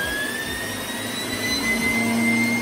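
A Cyclo Vac HD7525 central vacuum cleaner runs at full power, a steady, loud, jet-like whine with high tones that drift slightly upward, with no talk.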